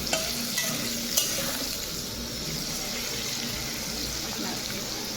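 Continuous hissing sizzle of potatoes frying in oil, with a couple of brief clanks from a utensil early on, close and steady throughout.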